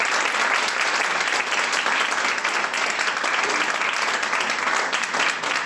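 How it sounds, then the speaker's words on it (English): A big round of applause from an audience, dense continuous clapping that stays loud and even from start to finish with no talking over it. "So let's have a big round of applause for you all."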